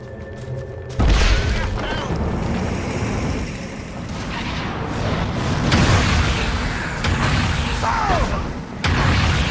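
A Dota 2 tower collapsing in an ESL One Mumbai 2019 match, heard as a loud booming crash with rumbling debris. Game effects and crowd noise continue throughout, and a voice talks over it.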